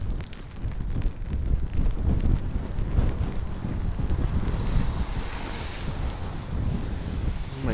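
Gusty wind buffeting the microphone on a rainy walk along Nicollet Avenue in South Minneapolis, a steady low rumbling roar with fluctuating gusts throughout, close and loud, with no clear speech.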